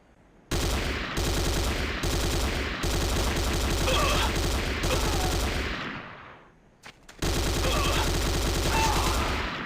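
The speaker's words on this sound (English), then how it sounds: "The next weapon is the Corbretti AR-70 Raptor automatic rifle" Corbretti AR-70 Raptor automatic rifle firing in Command & Conquer: Renegade, loud close bursts of rapid automatic fire with short pauses between volleys and bright impact pings.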